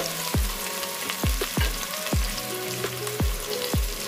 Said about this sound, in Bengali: এবার এর মধ্যে দিয়ে দিলাম পেঁয়াজ কুচি, দিয়ে আমি হালকা ব্রাউন কালার করে ভেজে নিব।